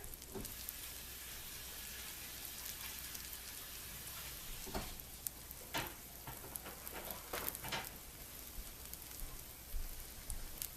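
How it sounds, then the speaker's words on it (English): Steady crackling sizzle of French toast frying in a hot pan, continuous and close, with a few sharper pops scattered throughout. "You can hear it sizzling."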